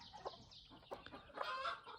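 Dual-purpose hens clucking close by in short, uneven bursts, with a longer rising cackle near the end.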